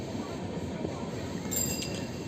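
Dhauli Express passenger train running from Shalimar to Puri near Balasore, a steady dense rumble of wheels and carriage noise throughout, with a faint metallic squeal or clink rising briefly near the end.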